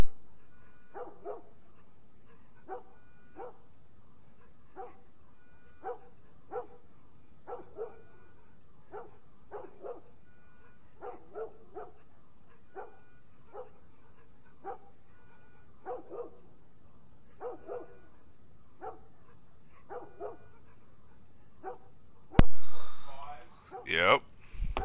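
A dog in The Last of Us video game barks in a slow, regular series of short, fairly quiet yelps spaced about a second apart, ending with a louder burst of other game sound.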